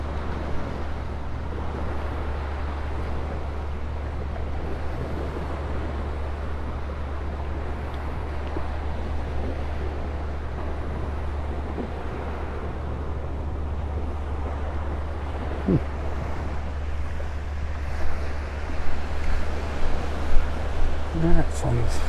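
Surf and wind on a beach in North Naples, Florida, a steady broad wash of waves with strong low wind rumble throughout, rising slightly toward the end.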